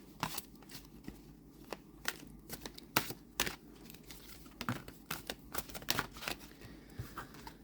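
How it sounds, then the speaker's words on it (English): Stiff vintage Christmas tarot cards riffled in an overhand shuffle, giving close, dry bursts of papery slaps and flutters in an uneven rhythm, steady throughout with no talking. "So they do overhand shuffle"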